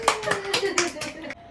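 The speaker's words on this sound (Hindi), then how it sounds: "शाबाश, बजा ताली" A small child claps hands at a birthday celebration, a quick run of about seven light, close claps in an uneven rhythm, with an adult voice speaking over them.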